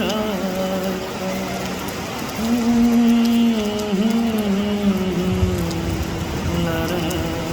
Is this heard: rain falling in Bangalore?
yes